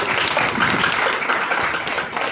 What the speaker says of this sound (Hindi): क्या जोरदार तालियां